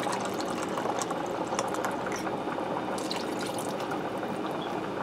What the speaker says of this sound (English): I'm going to add in a half a cup of wine